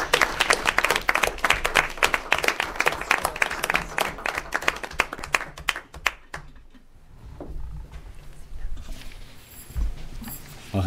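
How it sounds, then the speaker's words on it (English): Audience at a school board donation event claps in a lively round of applause for people walking to the podium, crisp and fairly close for about six seconds before fading into quieter room noise and shuffling. "So everybody give a round of applause as they walk to the podium."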